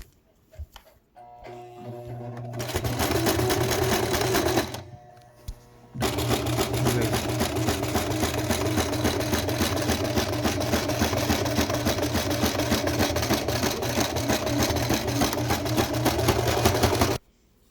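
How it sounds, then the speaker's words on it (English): A sewing machine stitches a homemade washable fabric face mask, its fast, steady whirring close and loud in two long runs with a brief pause between them, and no talking. "fold both sides in, and press it down, and then sew it again"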